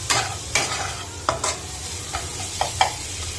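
Maggi noodles with their tastemaker masala stir-fried in a pan, a low steady sizzle broken by several sharp scraping stirs at irregular intervals, close by with no talking.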